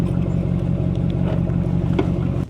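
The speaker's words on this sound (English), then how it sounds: "my truck is really loud." A loud truck engine idles with a heavy, steady low rumble and slight rattling throughout, close and continuous with no talk.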